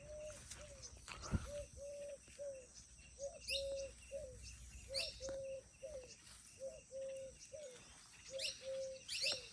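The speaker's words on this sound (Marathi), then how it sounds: "वेगळंच किलबिलाट आहे राव. सगळ्या पाखराचा वेगवेगळा आवाज." Birds chirp and call repeatedly in a steady rhythm, a mix of different species, fairly near, over a faint outdoor background with no talking.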